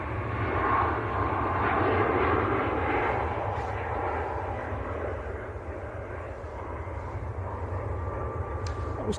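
TUI jet airliner departing Manchester Airport for Hurghada, heard as a sustained engine roar with a low rumble that is strongest early and slowly fades as the aircraft moves away.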